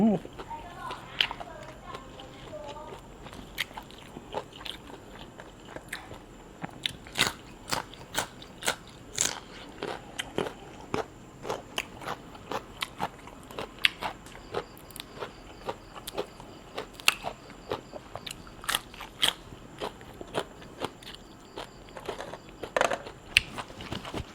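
Someone eats fried dried fish with a spicy long-bean salad, making close, loud, crisp crunches and bites in a steady, irregular rhythm across the whole stretch, with some talk at times.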